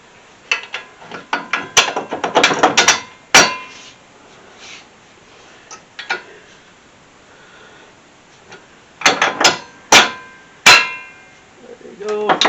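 A ratchet tightens a strut bolt on a 2006 Nissan Altima during a front shock and strut replacement: close, sharp metallic clicks and clanks come in quick clusters, then sparse single knocks, followed by another burst near the end.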